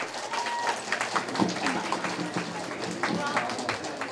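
An audience at a Vietnamese community association event in Southern California breaks into applause, a moderately distant, steady patter of many hands with a voice heard over it.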